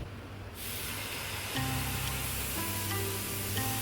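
Surnoli batter hits a hot griddle with a sudden steady hiss that holds alone and close, with faint tonal hums underneath.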